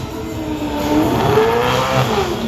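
A 1,000-horsepower Hot Wheels High-Tech Performance HSV drift car revs hard on track at a MotorEx drift show, its engine note climbing and wavering in a loud, continuous snarl with no talk over it.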